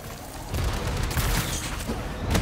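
A rocket slams into a target in Marvel's Spider-Man 2, a heavy booming blast that bursts in after half a second and rumbles on with crackling debris for a couple of seconds.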